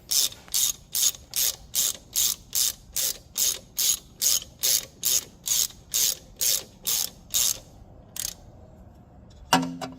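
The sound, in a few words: ratchet running in bolts on Miata supercharger install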